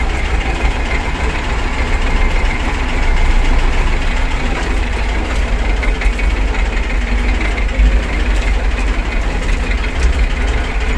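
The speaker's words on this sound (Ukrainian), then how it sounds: "Це ж трактор" A tractor engine pulling a cultivator runs at a heavy, low, steady idle close by, a continuous diesel rumble with no voices.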